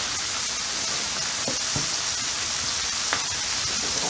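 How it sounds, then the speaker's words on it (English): Skirt steak sizzles on a hot flat top griddle, a steady broadband hiss of frying with a few faint pops and clicks, close and continuous throughout. "Let that sizzle up a little bit."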